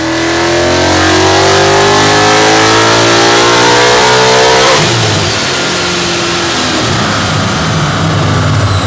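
Supercharged 2019 Mustang GT engine revving hard on a dyno, a loud rising wail with supercharger whine that peaks midway and then drops into a rough, roaring decel.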